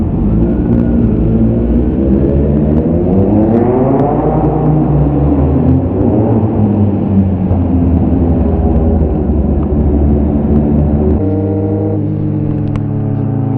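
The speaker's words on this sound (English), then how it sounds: "Oh my god, my back tire is spinning." A car's rear tire spins on a loose, debris-covered surface, a loud continuous engine drone whose pitch climbs and wavers with the revving, steady and close throughout with no talk.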